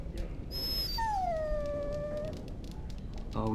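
A dog in Dragon Age Origins gives a drawn-out, high whimpering howl that slides downward and fades, heard fairly close over a low background hum, with a short burst of other sound at the end.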